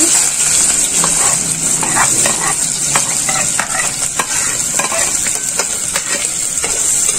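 Onions sizzle steadily in hot oil while frying for a Thoodhuvalai fish curry, with a constant bright hiss and scattered clicks of a utensil stirring the pan, close up.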